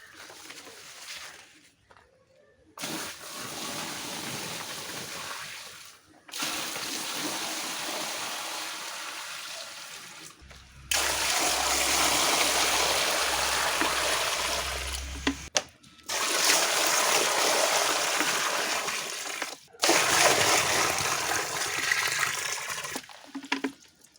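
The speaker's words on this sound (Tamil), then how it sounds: "தண்ணி பார்த்திங்கன்னா ஃபில் பண்ணியாச்சு" Water gushing in bursts into a small fish pond tank being filled for gourami, loud splashing stretches separated by short pauses, with faint birdsong in the background.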